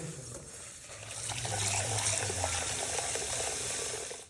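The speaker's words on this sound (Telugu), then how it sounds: "ఈ వాటర్ అంతా పడేస్తూ ఉంటేనే మొత్తం ఆ బర్న్డ్ అంతా ఇలా చూపిస్తున్నట్టుగా వచ్చేసింది" Water poured out of a burnt pan during cleaning, a steady close splashing gush that swells after the first second and runs on evenly before cutting off, with no talking.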